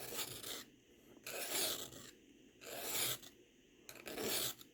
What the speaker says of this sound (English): when using the file, I like to file to the edge